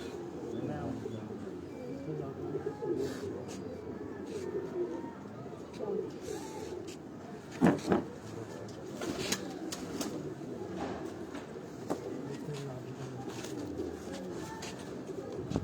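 Continuous low cooing from a group of pigeons at a fancier's loft, with occasional chirps and a brief louder burst partway through, mixed with faint background voices.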